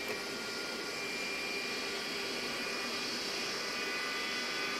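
A Boeing 727 freighter's engine spools up in Microsoft Flight Simulator 2020, a steady broadband jet roar and whine heard with cockpit windows open, constant and fairly loud with no talk.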